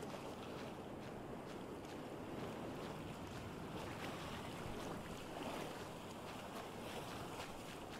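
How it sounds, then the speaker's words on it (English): Steady, faint rushing wind on a windy day in Survival Fountain of Youth, a continuous breathy roar with a wave-like wash and no distinct events, heard alone without talking. "it's a windy day."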